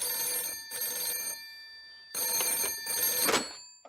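A cartoon telephone rings in two bursts of bright, electronic trilling separated by a short pause, loud and close, with no one speaking over it.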